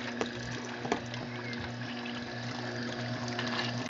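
Tomatoes are poured into a motorized strainer during home canning, giving a wet splashing pour over a steady mechanical hum from the machine, moderately loud and continuous.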